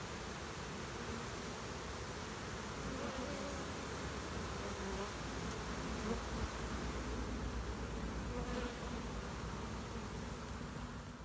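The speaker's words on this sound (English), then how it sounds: "they're trying to get to these bees in the box" Swarm of honeybees buzzing steadily around a hive box outdoors, a dense, continuous near drone of many wings with no talking.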